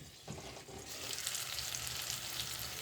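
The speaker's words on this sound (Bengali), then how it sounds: "শিম আর আলু মোটামুটি বেশ ভাজা ভাজা হয়ে গেছে।" Beans and potatoes fry in a covered wok, giving a steady, close, moderately loud sizzle and crackle that runs the whole time, with a few soft knocks near the start.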